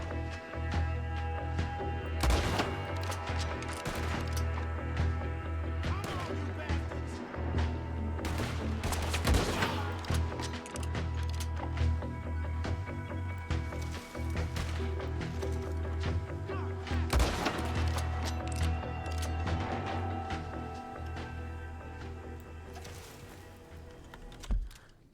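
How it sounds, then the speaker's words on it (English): Repeated gunfire crackles through a Red Dead Redemption 2 shootout, with scattered sharp shots and bursts, some louder and closer, over a steady low hum and faint background activity. "Who's still shooting?"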